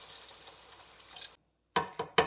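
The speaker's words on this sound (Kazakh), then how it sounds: "Енді суымызды құямыз. Мен шамамен су құямын." Water poured into a pot of fried pilaf ingredients, a steady watery pour that stops abruptly, followed after a pause by three short splashy bursts.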